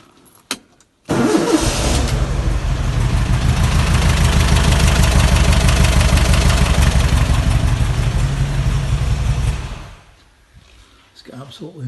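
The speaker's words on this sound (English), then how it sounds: "I'll just give you a demo of that engine." A car engine cranks and fires up abruptly, then runs loud and steady at a fast idle for about nine seconds before cutting off, close to the microphone.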